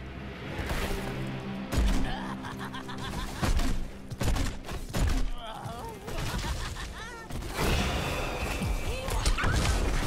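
Bomb explosions in the video game Heroes of the Storm, a quick series of loud crashing blasts and bangs amid busy game effects, with character voices talking over the action.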